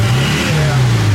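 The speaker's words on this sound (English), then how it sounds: "revving up the engines till they smoke" A car engine revs hard at a VW workshop tech session, a steady loud droning roar held close throughout with no pauses.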